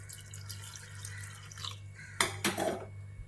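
Flattened rice (poha) is rinsed in water, first with soft sloshing and dripping, then two short louder splashes and clatters of a bowl near the end, close by over a low hum.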